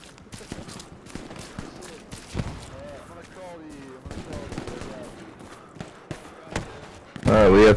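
Scattered gunshots in Hell Let Loose crack at irregular intervals, some sharp and close and others farther off, and a burst of louder firing comes at the end. Voices are heard talking between the shots.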